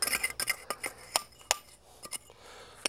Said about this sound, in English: When you need to start cleaning out the grit, just scrape it out